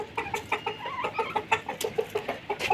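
Chickens cluck in quick, repeated bursts close by while eating onions, a busy chorus of short clucks and peeps with a soft rhythmic pecking feel.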